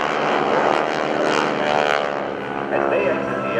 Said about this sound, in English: watch high above the target area again as two aircraft are dispatched to assess